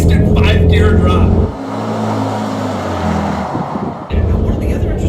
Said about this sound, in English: I floor the accelerator, we're down to 5th. So you'll 5-gear, instant 5-gear drop.